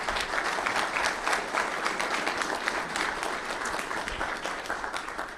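An audience at an opening-remarks session claps steadily in a dense, even wash of applause that holds for the full five seconds, many hands together at moderate volume.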